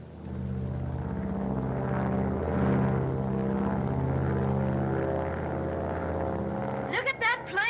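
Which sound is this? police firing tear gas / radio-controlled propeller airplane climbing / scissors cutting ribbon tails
radio-controlled propeller airplane climbing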